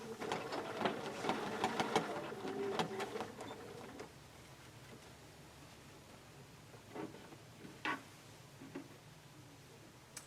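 A sewing machine stitches in the ditch on a quilt, running in a quick ticking burst for about four seconds, then stopping with a few isolated clicks and faint handling noises.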